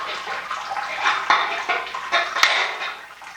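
Water drains out of a homebrew grain basket during a Samuel Adams Boston Lager clone brew, making a close, splashy hiss with small clinks and surges. It rises and falls without pause.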